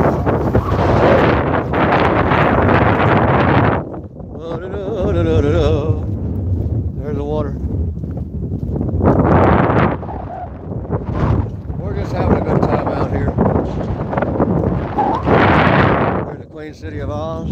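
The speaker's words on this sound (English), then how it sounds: "That wind!" Strong wind batters a microphone outdoors in loud, roaring gusts that rise and fall over the whole stretch, with a voice briefly heard through the buffeting.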